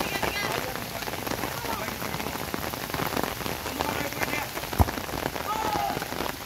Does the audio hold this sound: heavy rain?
yes